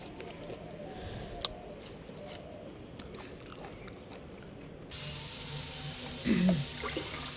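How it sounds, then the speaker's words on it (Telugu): Homemade fertilizer water poured onto garden plants. Steady, close splashing starts partway through, after chewing sounds and faint bird chirps. "ఇప్పుడు ఈ వాటర్ని అన్ని మొక్కలకి ఇస్తాను"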